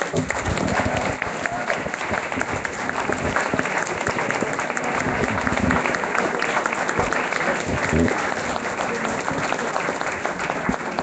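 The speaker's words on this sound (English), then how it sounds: "let's give Paul a big round of applause." An audience at a book talk gives Paul a big round of applause, thick continuous clapping filling the whole span at steady volume, with crowd noise blended in.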